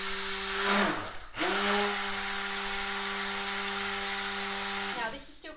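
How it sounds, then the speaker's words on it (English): A stick blender whirring steadily as it mixes soap batter, a loud close motor hum that starts, briefly stops and restarts, then runs evenly for several seconds before cutting off. "Nice trusty blender."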